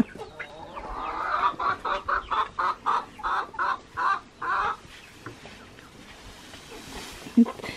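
A hen clucks in a steady run of about a dozen rhythmic calls, close by, then the clucking stops and quieter farmyard sounds remain.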